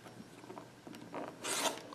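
A rotary cutter slices through quilt fabric along a ruler, giving a few short scraping rasps and one louder, longer cut near the end, close and fairly quiet.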